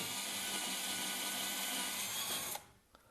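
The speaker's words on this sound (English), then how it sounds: "we can drill those pilot holes perfectly" A power drill drilling pilot holes whirs steadily and loudly for a couple of seconds, then stops abruptly, followed by a faint tap.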